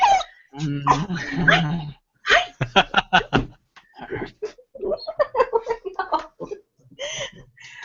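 A dog yips, whimpers and barks excitedly at a costume party, with short bursts mixed among people talking and laughing nearby.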